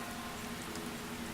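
Steady rain falls in the Seduce Me otome game, a dense, even hiss of drops on a surface with no voices over it.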